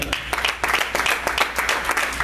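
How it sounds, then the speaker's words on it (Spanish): Church congregation clapping together during a Holy Communion service, a fairly close, rhythmic burst of hand claps with regular sharp beats and no talk over it. "Démosle un fuerte aplauso al Señor"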